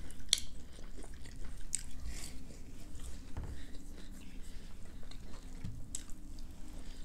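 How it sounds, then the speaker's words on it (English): Someone bites and chews fried chicken bones close to the microphone, with intermittent crunches, wet squishy chewing and soft breathy sounds between them over a quiet background. "Me crunching on the bone."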